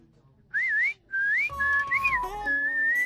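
A person whistles a melodic tune nearby, clear rising and falling phrases with short pauses between them, loud and alone with no talking.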